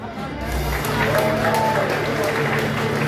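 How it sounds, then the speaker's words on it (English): A comedy club audience at a stand-up show claps and cheers in a dense, steady wash of applause, fairly loud and close, under a low hum of room noise. "give yourselves a big round of applause for coming out tonight"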